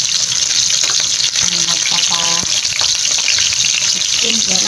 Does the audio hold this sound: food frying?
yes